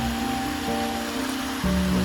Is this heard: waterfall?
yes